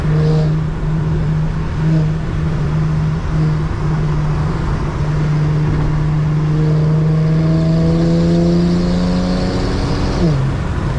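An Infiniti G37 accelerating hard on a road at night, its engine drone rising steadily in pitch through the gears for several seconds before a shift, loud and close from inside the car.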